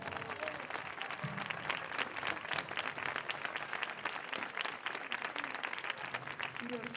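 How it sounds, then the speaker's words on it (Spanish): A crowd claps steadily in the cathedral square at an outdoor film premiere screening, a dense, even wash of applause that holds for the whole stretch, slightly distant. "Fuerte el aplauso, por favor."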